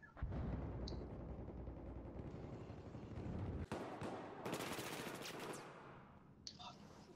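Distant, fairly quiet gunfire in the Battlefield video game, bursts of automatic shots and a sharp crack blending into a continuous battle din, with a voice speaking over it.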